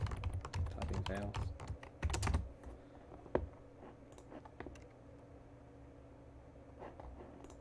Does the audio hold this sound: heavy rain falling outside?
no